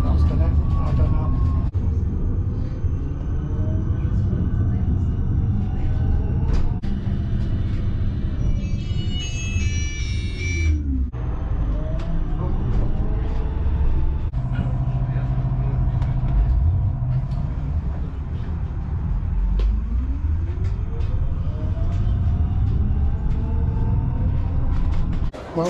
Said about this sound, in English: I'm going to be on this bus for 9 stops and then move on to a tram.